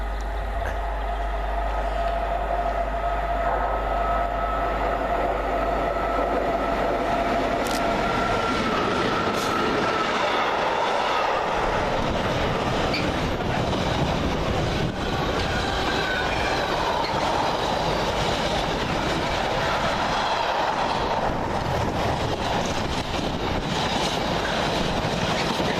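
A freight train hauled by two class 90 electric locomotives, 90-006 and 90-004 in Greater Anglia livery, runs through Leighton Buzzard station from Trafford Park to Felixstowe, rumbling and clattering steadily for a long stretch, with wheel squeals and wagon clicks.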